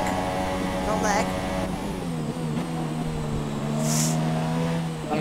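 An F1 2017 race car driving on with a front right puncture in the racing game, its engine holding a steady droning pitch with shifting harmonics and brief sweeps, with a person talking over it.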